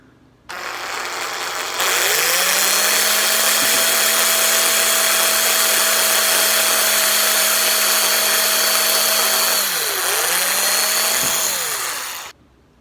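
A power drill runs a tiny bit into a ukulele body to make a strap button hole, a steady whine for about eight seconds, dipping briefly as the bit bites, then spinning down.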